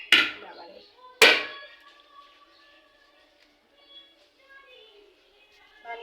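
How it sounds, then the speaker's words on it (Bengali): A large coconut is struck twice with a hard tool, two sharp loud cracks about a second apart, followed by quiet ringing and faint background sounds. "তো ভেঙে নিই নারিকেলটা।"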